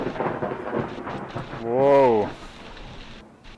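Thunderstorm with rain in the park-building game Parkitect, a broad rumbling wash under a man's speech, with one short spoken exclamation.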